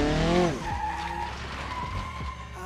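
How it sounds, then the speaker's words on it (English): Tires squeal loudly as a car drifts on a track in the BeamNG.drive racing game, with a revving engine whose pitch sweeps up and drops, followed by a sustained tonal screech and skidding noise, with no talking. "Try one more time to get a drift."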